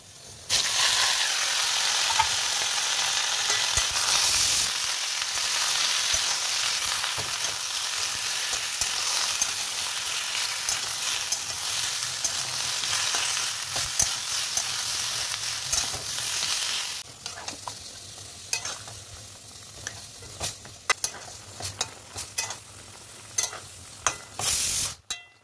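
Food fries in a hot wok with a loud, hissing sizzle that dominates the first two-thirds, then drops to quieter crackling with intermittent scraping and clanks of stirring; no voices are heard.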